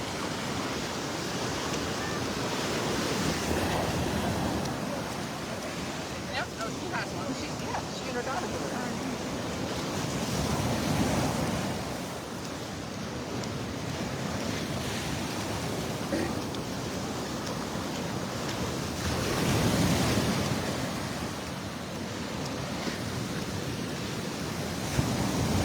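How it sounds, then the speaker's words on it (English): Ocean surf breaks steadily on a North Naples, Florida beach on a Sunday morning, with repeated broad swells roughly every few seconds under constant wind rumble against the microphone. "Seems like the waves are getting louder here as the tide comes in."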